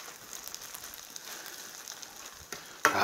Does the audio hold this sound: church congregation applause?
no